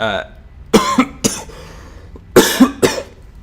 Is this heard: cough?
yes